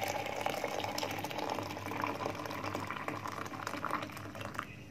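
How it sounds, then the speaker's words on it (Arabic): Boiling water is poured from cups over a pot of sticks for a cough remedy, giving a steady close-up gush and splash of liquid that runs continuously without pause. "هننزل عليهم كده بكوبايتين ميه مغليه زي ما انتم شايفين"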